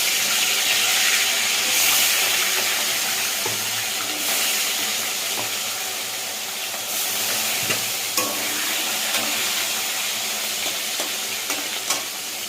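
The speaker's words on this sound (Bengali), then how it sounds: "তেলটা আমার গরম হয়ে গেছে, এবার মাছটা ছাড়বো" Fish frying in hot oil for a fish curry with potatoes, a loud, dense, steady sizzle and hiss heard up close, with occasional crackles and clatter over the frying and no voice.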